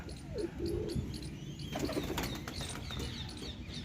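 Pigeon cooing softly nearby, with a rustle of wings and light movement noise around the calls.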